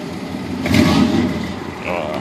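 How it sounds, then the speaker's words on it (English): A 1998 Chevy with a newly installed dual exhaust revs briefly from idle, a deep rumbling swell that rises and then settles. Talk is heard over the engine. "Go ahead, son, give it a little gas."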